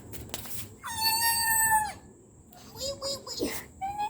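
A small kitten playing indoors gives a couple of high, drawn-out meows up close, the first long and steady, the next shorter and rising, with faint background sounds around them.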